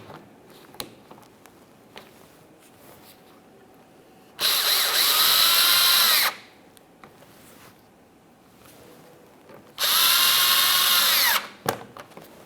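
A power tool snugs headlight bolts on a GMC Acadia in two loud, high-pitched whirring bursts of about two seconds each, separated by quiet handling noises and small clicks.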